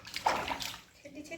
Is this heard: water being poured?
yes